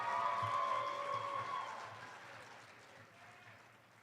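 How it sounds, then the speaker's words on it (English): Audience applause at a Roseman College of Nursing pinning ceremony in Henderson, a steady wash of clapping that starts fairly full and gradually fades over a few seconds, with faint speech-like tones at the start. "Everyone, please applause."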